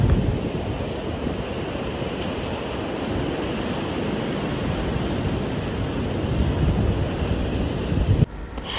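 Surf rolling onto a beach in Phuket, Thailand, a steady full wash of breaking waves with wind buffeting the microphone throughout, cutting off abruptly near the end.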